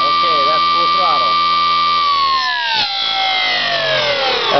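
A 7 kW Colossus electric motor at full throttle gives a loud, high-pitched tonal whine that holds steady, then slides downward in pitch as it winds down.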